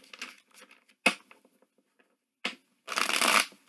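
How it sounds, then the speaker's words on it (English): Tarot cards are riffled and shuffled close up in several quick bursts of crisp, papery flutter, separated by short quiet gaps, with a longer, denser burst near the end. "I need to go ahead and shuffle your cards 4 more times."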